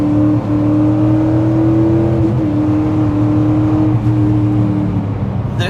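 Car with a swapped 10-speed automatic and a two-valve engine accelerating hard while its tires spin up, a loud, steady engine drone with rising and falling pitch, heard close from inside with no talk.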